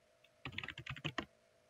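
A command typed on a computer keyboard, a short quick burst of about eight close, fairly quiet key clicks after a near-silent start, with no one talking.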